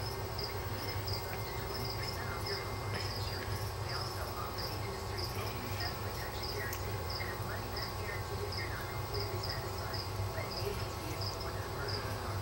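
Feeder crickets chirp nonstop in a steady, pulsing rhythm, close and constant over a faint background hum.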